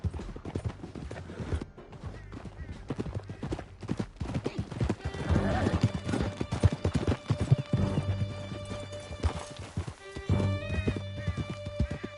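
Several horses gallop hard through a canyon in a chase, with steady pounding hoofbeats, a neigh or whinny breaking through, and loud, busy action close by the whole time.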